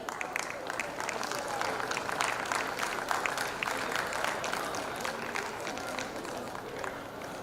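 Audience clapping at a school annual prize day in Jeddah for class toppers, a steady, moderately distant wash of many hands in a hall, even in level throughout with faint murmuring underneath.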